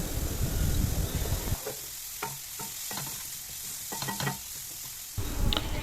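Chopped onion, carrot and capsicum fry with salt and turmeric in a hot pan for poha. A loud sizzle opens and closes the sequence, and a run of clattering spoon stirs sits in the middle, close and with no talking.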